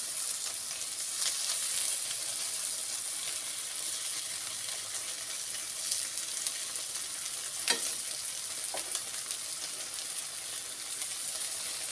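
Stale bread slices, just flipped, fry steadily in a pan with an even, close sizzle and crackle, broken by a couple of short sharp clicks from handling the pan; no voices.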